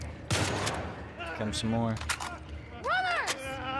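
Gunfire in The Last of Us Part II during a courthouse fight, a burst of sharp close shots and quick volleys mixed with game effects, while a person speaks briefly over the action.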